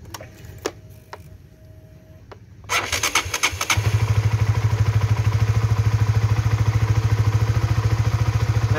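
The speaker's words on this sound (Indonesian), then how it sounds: "Nyalakan mesinnya sekitar 3-5 menit biar dia itu bersirkulasi ya." A Honda Supra GTR, Sonic, CBR150 or CB150R motorcycle engine cranks and catches after a few faint clicks, then settles into a steady, loud idle with a rapid, even pulse that lasts to the end.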